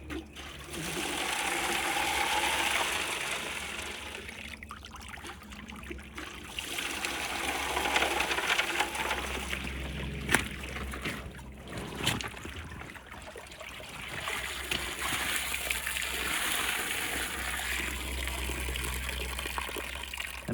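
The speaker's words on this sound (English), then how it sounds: "And now we wash out the box to get all of this that was up under the mat." Water washes out a gold sluice box after high banking in North Carolina, a steady gushing and trickling flow that rises and dips for about twenty seconds with a few brief splashes.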